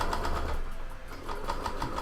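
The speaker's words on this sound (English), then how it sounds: "So let me sew this side up real quick." A sewing machine stitching a seam on fabric face masks, a close, steady rapid mechanical chatter with a rhythmic pulse that runs throughout, with no talk over it.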